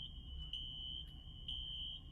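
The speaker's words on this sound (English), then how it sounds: "you're going to hear the fire alarm." A smoke alarm sounds a steady, piercing high-pitched tone throughout, with faint brief breaks, over low background rumble.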